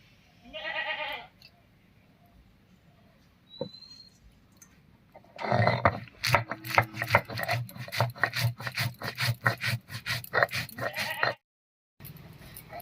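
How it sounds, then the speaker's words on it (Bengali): Soaked rice ground with green chili and garlic, a rough rhythmic rasping scrape that starts after some quiet clatter and runs steadily in close repeated strokes for several seconds before stopping. "এবারে বেটে নিচ্ছি সঙ্গে দিয়ে দেব একটা কাঁচা লঙ্কা আর দুই তিন কোয়া রসুন"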